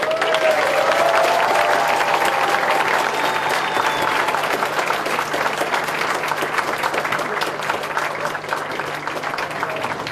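Fans at a meet-and-greet with the Krylia Sovetov football club applaud goalkeeper Jan Mucha, a loud, dense crowd clapping that starts strong and tapers slightly, with faint voices mixed in.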